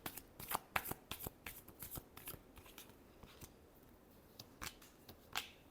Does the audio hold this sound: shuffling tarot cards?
yes